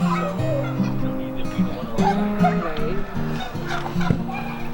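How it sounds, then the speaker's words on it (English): Several chickens, including an Ayam Cemani cross rooster, call and honk close by on an Idaho homestead in a busy, overlapping chorus, with a human voice mixed in among the squawks. "it's an Ayam Cemani, and it's one of the rarest chickens in the world"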